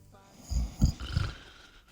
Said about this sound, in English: I'd hear the beginnings of a snore as my dad began to succumb to slumber